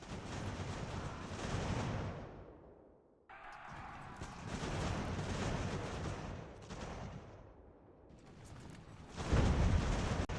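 Cannon fire in an Ultimate General American Revolution battle, heavy booming blasts and rumbling artillery salvos rolling loud and continuous over a clumped battlefield, with a brief lull before the barrage resumes and a strong blast at the end.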